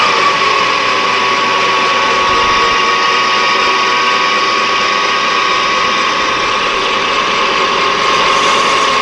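Craftsman 12-inch vertical band saw making a big cleanup cut, a loud steady whirring and grinding hum with a constant high whine, running alone throughout.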